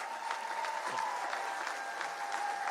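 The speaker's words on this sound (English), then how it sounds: "We applaud you today" Sustained applause from an audience at an eighth-grade graduation ceremony for a charter school's class of 2025, a steady, dense wash of many hands clapping at an even level with no talk over it.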